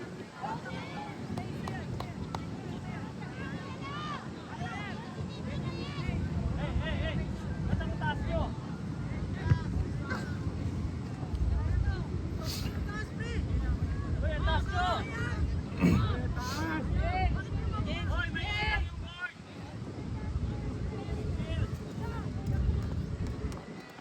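Wind gusts buffet the microphone outdoors at a school division meet football game, a rough rushing noise under a crowd of voices talking throughout.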